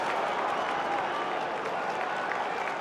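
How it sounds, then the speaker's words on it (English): Blackburn Rovers supporters at an FA Cup quarter-final replay against Millwall cheer and applaud in a steady, dense roar that fills the stadium without a break. "this has got the Blackburn crowd up"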